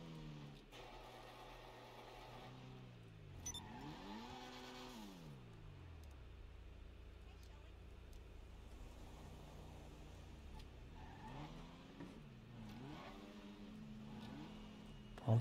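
Tuned Dinka Jester RR sports car from a video game: a faint engine humming at idle, then revving up and down in smooth sweeps several times, steady and unaccompanied by talk.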